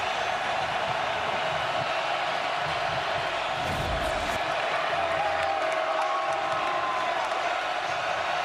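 Football stadium crowd at an Ole Miss versus Oklahoma college game, a steady roar of cheering and shouting voices heard from a distance, continuous throughout with a brief swell near the middle.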